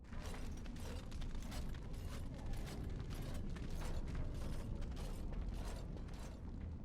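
Dense, continuous mechanical creaking and ratcheting from a solid door mechanism in the video game Dragon Age: Origins, heard alone with no talk, a steady grinding texture with sharp clicks scattered throughout.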